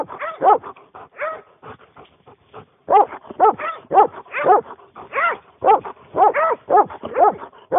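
Several hunting dogs bark in rapid, uneven volleys during a lynx hunt in the woods, loud and close, with short yelps and whines between bursts and a brief lull before the barking picks up again.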